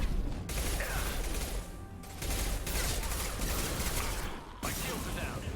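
Sustained automatic weapon fire from a Mass Effect 2 Legendary Edition firefight, dense bursts of shooting running almost continuously with brief breaks, loud and close.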